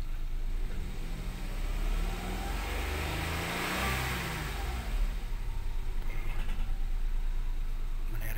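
A first-generation Toyota Wigo engine heard close as it is revved, rising briefly from a steady idle and then settling back into a rough, pulsing idle.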